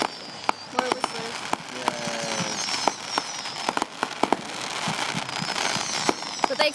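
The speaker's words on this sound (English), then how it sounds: "More whistlers." Whistling fireworks burst and crackle at a distance, sharp pops and rising whistles scattered irregularly over a steady background hiss, no clear talk.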